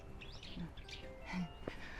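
Birds on a mountain trail give scattered short chirps and calls against quiet outdoor ambience, soft and somewhat distant.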